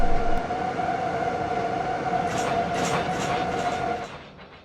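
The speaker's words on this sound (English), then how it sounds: "he applies the brakes, and hopefully we'll come to a stop before that switch" Freight train braking toward a stop in the Run 8 train simulator game, with loud continuous rumbling, a sustained brake squeal and clanking wheel noise that fade as the train slows, with no talking.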